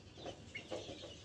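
Ornamental crested chickens, including Brahma birds, cluck and call in a few short bursts at close range in a home setting, with a steady background hum.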